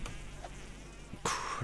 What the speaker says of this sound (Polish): Kurde, jestem muchą! Nie, i zaś to brzęczenie cholerne, nie!